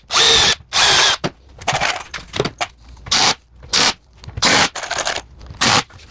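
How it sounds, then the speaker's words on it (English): A power drill countersinks holes in wood for a simple sink cabinet, firing in repeated short whirring bursts with brief pauses between, close and loud, alone without talk. "Countersink."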